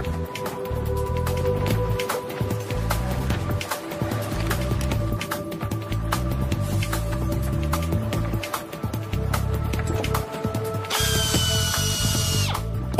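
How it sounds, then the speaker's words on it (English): Divers in watertight dry suits run a power drill underwater, boring holes for mounting brackets on a bridge in Greece. It makes a continuous whirring drone with rapid ratcheting clicks and a brighter, harsher burst near the end. "All this just to drill holes for mounting brackets."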